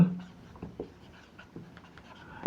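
Pen scratching on paper during a physics lesson on simple harmonic motion, a few short soft strokes close by and fairly quiet, with faint room noise between them and no talking.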